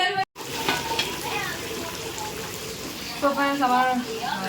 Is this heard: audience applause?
no